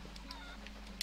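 Chicken clucking in The Legend of Zelda: Twilight Princess, a few short, faint squawks over a steady low game background hum, with a brief louder burst near the end.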